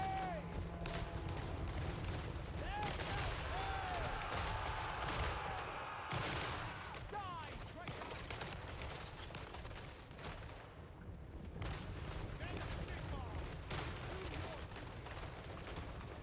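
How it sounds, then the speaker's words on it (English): Gunfire crackles from units shooting while running in the video game Total War Warhammer 3, a dense continuous fusillade of small arms at moderate distance, with battle din and shouting underneath. "They're firing while running."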